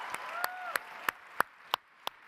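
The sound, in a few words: audience clapping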